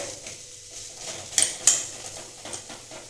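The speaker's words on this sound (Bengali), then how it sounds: "আলুটা একটু ভেঙে দেবো খুন্তি করে" Pressure-cooked boiled potato broken up with a metal spatula in a pan for potato patties, giving a few soft close scrapes and two sharper clinks over a quiet background.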